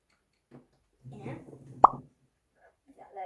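An egg is dropped into a glass of water, giving one sharp, brief plop midway through. A person talks quietly before and around it.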